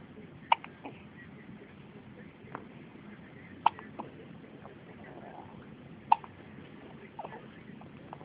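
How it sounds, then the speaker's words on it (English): A young boy hiccups three times, each a sharp, brief, close catch spaced a few seconds apart, with faint breathing and small rustles between them. "got the hiccups"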